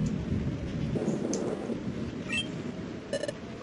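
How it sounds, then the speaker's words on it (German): Thunder rumbling through a nighttime thunderstorm in Pokémon Mystery Dungeon: Explorers of Sky, a low rolling boom under steady rain noise, with a few faint game chimes and no speech. "Ah, sieht nach einem heftigen Gewitter aus heute Nacht."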